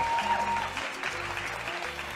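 A crowd applauds as a singer is introduced at the start of a program, a brief, moderately loud burst of clapping over a low background tone.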